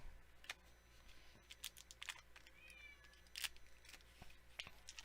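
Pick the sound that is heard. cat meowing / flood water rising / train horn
cat meowing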